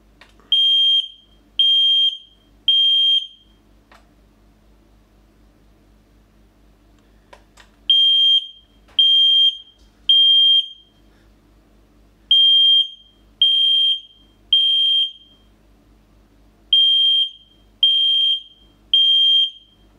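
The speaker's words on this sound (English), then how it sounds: "Now test the carbon monoxide detector." Carbon monoxide detector on an addressable alarm system sounding during a test: loud, close electronic beeps in groups of three, repeating four times with short pauses between.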